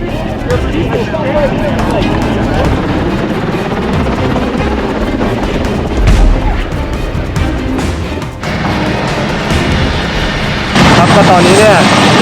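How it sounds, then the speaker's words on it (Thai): An emergency medical rescue helicopter lands at a roadside scene, its loud continuous rotor and engine roar filling the whole stretch with a surge near the end, while people talk over it. "เราเห็นเฮลิคอปเตอร์ลงมานะครับ"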